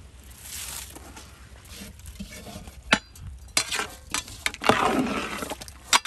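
Rice is tipped into a pot of boiling water for a jackfruit vegetable biryani, with scattered rustling pours, sharp clinks and splashes over a low bubbling simmer, loud and close.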